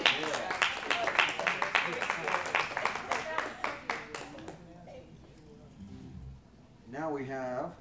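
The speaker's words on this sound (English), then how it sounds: "Give Robbie another hand of applause." A small open mic audience claps for about four seconds, sharp hand claps close by that thin out and stop, followed by quieter room sound and then a voice speaking.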